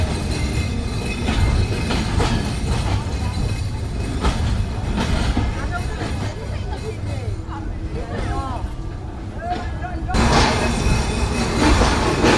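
Rupsha Express easing into Akkelpur railway station, wheels clattering and squealing under a continuous loud rumble, with voices and platform babble mixed in throughout.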